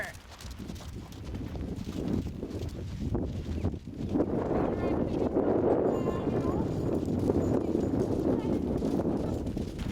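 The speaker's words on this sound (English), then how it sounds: "All the other horses are changing directions at the trot." Several horses trot around a hunt seat riding arena, a continuous patter of hoofbeats under steady wind noise and low background rumble, with an instructor's voice carrying over the footfalls.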